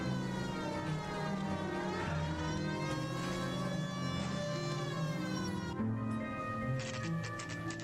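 Police car siren in the video game L.A. Noire, a continuous wailing siren with sweeping tones over an engine rumble, steady throughout and fairly loud.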